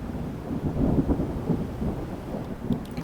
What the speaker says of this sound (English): That is one angry storm coming at us.